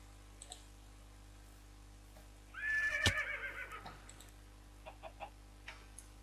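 A single black horse whinny in Minecraft rings out clearly, rising then shaking down over about a second, with faint clicks before and after in a quiet backdrop.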